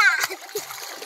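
A brief splash of someone jumping into water at a swimming spot, a sharp burst followed by a short wash of water, with a voice close by.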